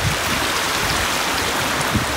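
Snowy woodland stream beside a trail, steady broadband rush of flowing water, close and constant with no pauses or talk.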